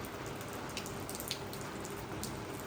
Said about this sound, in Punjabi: ਅਚਾਨਕ ਹੀ ਬਾਰਿਸ਼ ਸ਼ੁਰੂ ਹੋ ਗਈ ਸੀ।